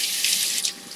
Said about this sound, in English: I'm gonna rinse my hands off.